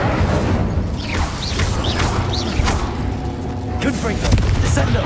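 In the Hogwarts Legacy video game, the Incendio fire spell is cast amid loud combat, with booming, crackling bursts and whooshes over a dense, busy battle mix while a character's voice calls out during the fight.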